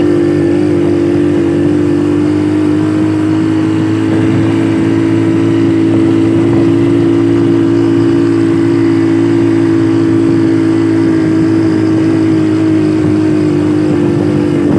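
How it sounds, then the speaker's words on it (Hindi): Motorcycle engine labouring hard on a steep climb through green hills in the Samani valley of Kashmir, a loud, steady low drone held throughout with no talk. "चढ़ाइयाँ जनाब, मोटरसाइकिल पूरा जोरां विच है।"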